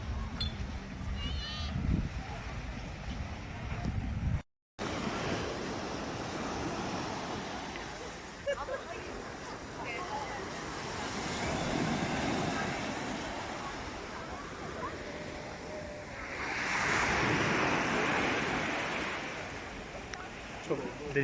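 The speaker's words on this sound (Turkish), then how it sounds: "Çok dalgalı." Ocean waves wash onto Belcekız beach at Ölüdeniz, Turkey, in slow surges, swelling and fading over wind noise, with one brief dropout early on.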